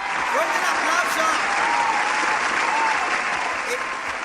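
A studio audience at a pop-up television show breaks into loud, sustained applause, a thick continuous roar of clapping with faint cheering and brief voices rising through it.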